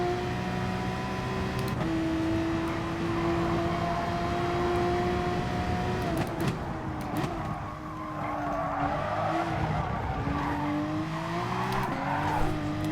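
A race car in the Gran Turismo Sport racing game oversteers through a corner, its engine droning steadily while tires squeal and skid in long rising and falling whines, loud and close with no talking.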